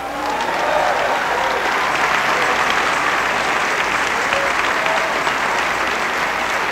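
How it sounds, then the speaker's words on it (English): A church congregation claps for the Lord in a sustained, dense roar of hands, loud and even throughout with no pauses, a faint murmur of voices blended into the wash. "Now give the Lord a hand clap."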